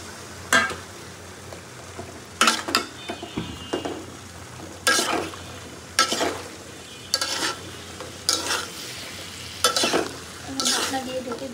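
Eggplant pieces are added to shrimp and spices already frying, bringing bursts of loud sizzling and stirring that come in regular surges over a low, steady crackle, with no voices.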